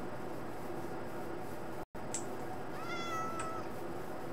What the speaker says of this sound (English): What, a little kitty moved here?